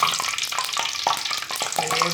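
Urad dal vada batter drops into hot coconut oil in a pan, sizzling and bubbling up close with crackling pops and a quick series of clinks against the vessel.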